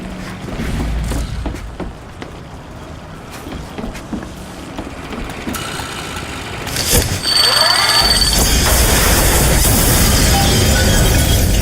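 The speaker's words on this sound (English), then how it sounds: "Need to sabotage the engine and bring this thing down." Engine sabotaged in Bioshock Infinite: a rumbling mechanical drone with clanks builds to a sudden loud blast, followed by a dense, sustained roar of fire and debris.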